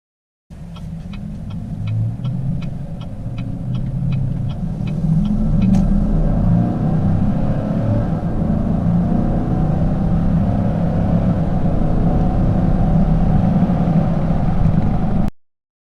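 A GMC Sierra pickup fitted with a cold air intake pulls along the road on a test drive, its engine a deep, steady rumble building gradually near 2,000 RPM, with faint rhythmic ticking early on.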